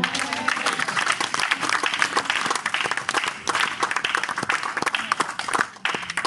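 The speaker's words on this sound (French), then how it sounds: "On va acclamer Jésus là." A church congregation applauds to acclaim Jesus, dense steady clapping from many hands filling the room for several seconds, with some scattered voices underneath.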